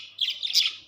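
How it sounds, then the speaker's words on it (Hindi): Pet parrots give a short run of high, bright chirping calls, close and fairly clear, lasting under a second. "ये देखें हमारे खूबसूरत तोते"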